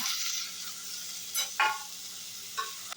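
Onion and tomato fry in a pan for a chicken curry, with a constant bright sizzle broken by two or three short scraping stirs.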